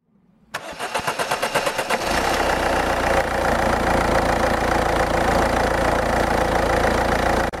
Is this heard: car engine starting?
yes